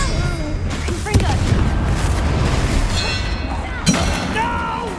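Confringo blasting spells explode in Hogwarts Legacy combat: two heavy booming blasts about three seconds apart over a loud, dense layer of battle noise and a character's voice.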